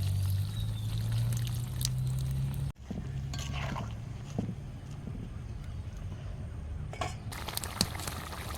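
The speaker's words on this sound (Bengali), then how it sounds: "আবার ঝোলে দিয়ে দিচ্ছি। মাছের ঝোলে দিয়ে দিচ্ছি।" Liquid is poured into a tamarind fish curry broth: a steady pouring rush that breaks off abruptly, then quieter simmering with occasional clinks and brief handling noises.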